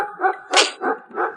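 A dog in an animated drama gives a quick burst of several sharp, excited barks and yips close by, with no talk over them.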